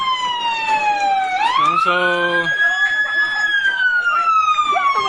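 Fire truck sirens wail at a fire consuming commercial buildings in Agusan del Sur, with a rising and falling siren tone and a brief stuttering yelp, loud and close, as someone talks.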